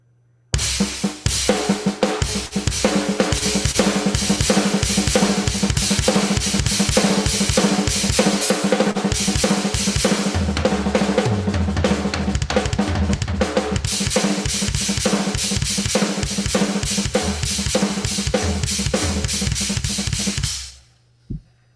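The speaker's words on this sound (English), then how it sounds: "So for example, with a regular paradiddle or an inverted paradiddle, it could sound like this." Drum kit played in paradiddle and inverted paradiddle rudiments, rapid continuous strokes with crash cymbals and bass drum on the singles, loud, close and alone for about twenty seconds.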